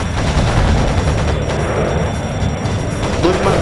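Continuous, dense gunfire from aircraft in the FoxOne air combat simulator game fills the whole stretch, a steady loud clatter of rapid shots and booms with no break.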